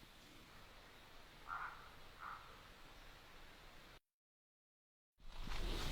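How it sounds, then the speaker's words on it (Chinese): Stone frog croaking in a wilderness gully near the Thailand–Laos–Vietnam border, two short calls a moment apart over steady insect and stream hiss, followed by a brief dropout and then louder rustling noise. "听到这个石蛙叫唤没？"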